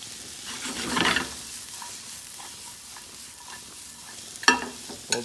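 Mushrooms sizzle softly in a pan of golden caramelized onions and garlic, with a steady low frying hiss, a louder burst of stirring near the start and a sharp clatter of the utensil near the end.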